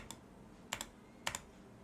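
A computer keyboard clacks while digits are deleted with backspace in a coding session, one lone keystroke then two quick pairs of crisp taps, close and isolated against quiet room tone.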